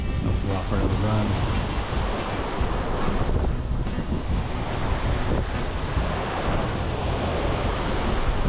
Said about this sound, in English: You can see these waves are just relentless. They just keep coming and coming and coming.